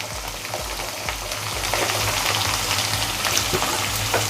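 Garlic cloves browning in hot oil in a pan for kulambu, a steady crackling sizzle with scattered pops that grows slightly louder over a low background hum.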